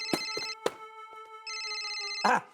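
A mobile phone ringtone playing a bright electronic melody of sustained tones in two bursts, close and clear, broken by a few short clicks and a brief noisy rustle near the end, no speech.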